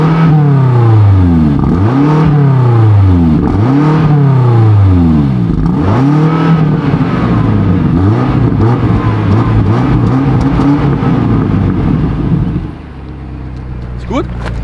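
A BMW X5M Competition SUV with a 4.4-litre V8 producing 625 PS revs hard in repeated loud, sweeping bursts, rising and falling several times before settling to a lower idle rumble near the end.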